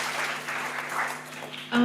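An audience at a women's leadership forum applauds in a continuous even wash over a low electrical hum, which fades out as a voice begins at the end.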